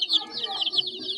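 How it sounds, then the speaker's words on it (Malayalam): Newly hatched chicks and hens calling with soft clucks and high chirps, a fairly steady stream of bird sounds close by, with faint background noise. "വിരിഞ്ഞ് ഇറങ്ങിയ കോഴിക്കുട്ടിക്ക്"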